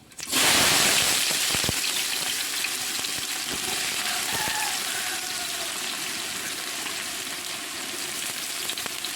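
Sliced onions drop into hot oil already holding cinnamon, cardamom, cloves and bay leaf for a Palakkad-style beef biryani, bursting into a sudden loud sizzle that settles into a steady, hissing fry.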